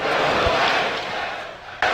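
An esports arena crowd at a CS:GO semifinal between Team Liquid and Astralis at FACEIT London 2018 roars loudly and steadily, then cuts off abruptly near the end.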